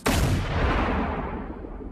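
A single loud rifle-shot effect bursts out suddenly, then rolls into a long, broad rumbling decay that fades over about two seconds.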